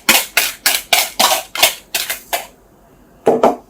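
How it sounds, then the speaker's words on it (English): Pineapple cake batter being stirred into flour in a mixing bowl, with a utensil scraping and knocking against the bowl in a steady run of about eight rhythmic strokes, a pause, then two more, close and fairly loud with no talk. "we're going to simply mix this with the flour"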